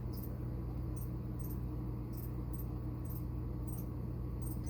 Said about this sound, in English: I've actually never had singing crickets.